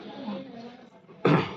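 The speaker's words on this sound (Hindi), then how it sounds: "खांसी हो रही है" During a Hindu Satyanarayan puja ritual, soft murmured chanting gives way to a single sharp, close cough near the end.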